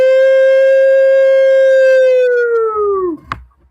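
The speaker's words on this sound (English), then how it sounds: "a whole siren going" A civil-defense style siren holds a long, loud steady tone, then winds down and drops away, ending in a short sharp click.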